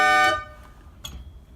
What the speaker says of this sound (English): I got my air horn,